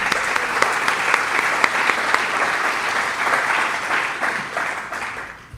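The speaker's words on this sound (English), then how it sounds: "Please join me with applause to thank Dana for the support." An audience at a speaker series claps loudly and steadily in thanks to a sponsor, a dense, even wave of many hands that holds strong before easing off toward the end.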